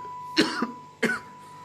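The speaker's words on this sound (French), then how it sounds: "Vous me faites tousser maintenant." Two short, rough coughs close to the microphone, with a brief pause between them.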